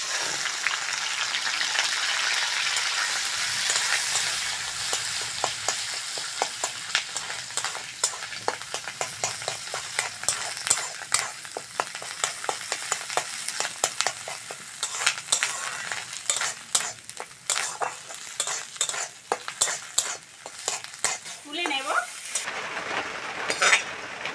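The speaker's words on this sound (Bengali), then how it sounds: "মাছের ডিম ভাজার জন্য কড়ার মধ্যে সর্ষের তেল দিয়ে দেবো" Fish roe frying in mustard oil in a wok, a continuous loud sizzle with repeated scraping and stirring strokes of a spatula against the pan, growing more rhythmic toward the end.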